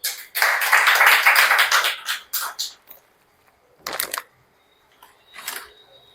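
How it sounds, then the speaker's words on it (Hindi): Live audience clapping at a motivational talk, a burst of applause for about two seconds, tapering into a few scattered claps, then brief short bursts of clapping near the end. "इसके लिए भी एक जोरदार ताली बजाइए"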